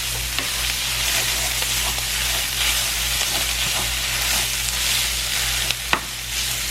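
Sausage browning in a pan gives a steady, bright sizzle that fills the whole stretch, with a constant low hum beneath and a few sharp clicks of a utensil against the pan.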